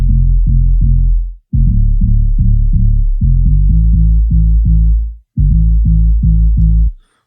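A deep house sub bass layer built from Serum synth presets pulses on its own in loud, clean, repeating low notes, grouped in rhythmic phrases with brief gaps between them.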